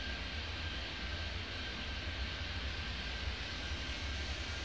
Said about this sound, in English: Future jet 706, clear for takeoff